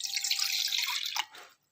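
Water pours steadily from a tap or kettle into a pan for green tea with grated ginger in a home kitchen, a close, continuous splashing stream lasting over a second before tapering off and stopping.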